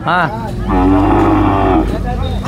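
An ox at a weekly cattle market gives a loud, close, sustained moo, framed by shorter lowing calls from other animals at the start and end.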